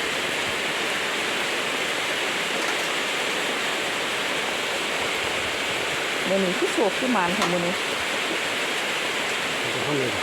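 Heavy rain falls as a steady, dense hiss across the whole stretch, and a voice speaks briefly over it near the end.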